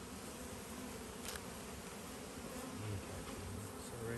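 Honey bees buzz around an open hive at a bee sanctuary, a dense, steady swarm hum filling the whole stretch, close and even, with no voices.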